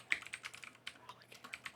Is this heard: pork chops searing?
no